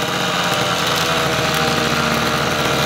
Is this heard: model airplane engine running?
yes